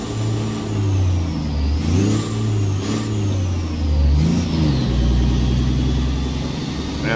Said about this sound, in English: we need to start the engine